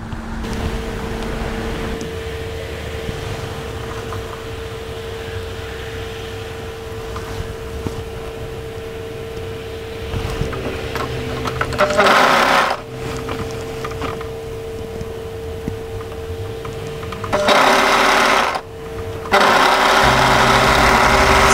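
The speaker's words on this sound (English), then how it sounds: "match and overlock the remaining sleeve seam" An overlocker runs along a hoodie's raglan sleeve seam with a long, steady, loud mechanical whir, rising in intensity in a couple of stretches near the end.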